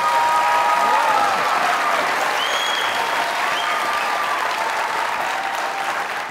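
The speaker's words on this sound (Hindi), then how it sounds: "इतनी ही तालियां इस शहजादे के लिए" An audience at a Pakistani comedy show bursts into loud, sustained applause mixed with whistles and crowd noise, staying full and steady and tapering only slightly toward the end.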